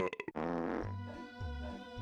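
A cartoonish fart effect plays in the Double Dash kart-racing game, a quick sputtering burst followed by low, drawn-out rumbling tones, faint and alone.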